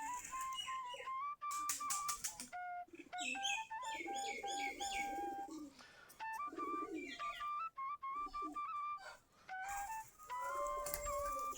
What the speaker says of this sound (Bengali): সবগুলাই দেশি জাতের কবুতর।